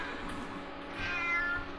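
Cat meowing in the Minecraft video game: a drawn-out, rising meow over steady low background game sound, fairly close and clear, with no talking.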